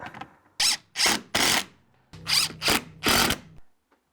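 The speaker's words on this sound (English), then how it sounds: "So pre-drill it." A power drill pre-drilling holes for 3-inch construction screws while securing a ceiling corner, heard as six close, loud bursts of whirring in quick succession, the later ones over a low hum.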